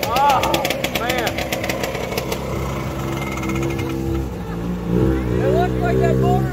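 A race snowmobile engine at a motor park runs loud and close, idling roughly and then revving in rising and falling surges, with people talking nearby.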